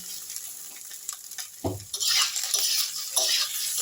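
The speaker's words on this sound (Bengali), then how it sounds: "আলুটা আমি একটু সেদ্ধ করা ছিল, এটাকে আমি একটু ভেজে নিচ্ছি।" Boiled potato pieces fry in a pan over tempered ginger and spices, sizzling quietly at first, then a brief clank of a utensil before the sizzle swells louder and steadier, with scraping stirs and no talking.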